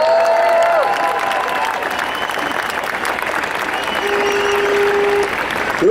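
Rally crowd at a cross-party People's Vote event applauding and cheering, a dense steady wash of clapping with scattered whoops, loud and sustained throughout.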